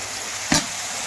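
A turmeric and spice paste is stirred in oil in a frying pan for a village-style dish, with a steady, quiet sizzle and one brief scrape of the spoon partway through.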